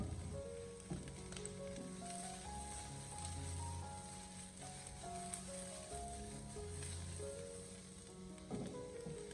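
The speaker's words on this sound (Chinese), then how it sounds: "我们开中小火，先把它翻炒一下，一边翻炒一边再轻轻的按压煎制一下。" Chopped chili peppers stir-fry in a little hot oil over medium-low heat, pressed and turned in the pan. A faint, steady sizzle runs throughout with occasional soft scrapes, and no one speaks.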